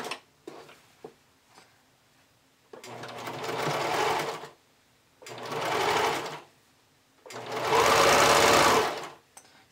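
A sewing machine runs a narrow zigzag stitch along stretchy bikini binding, sounding in three sustained whirring bursts of about two seconds each, loud and close, with faint handling taps in the pauses between.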